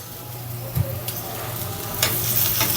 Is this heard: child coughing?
no